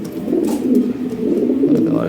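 Lahori Sirazi and fancy pigeons coo steadily in a low, rolling murmur, close by and continuous, with faint voices and small noises around them.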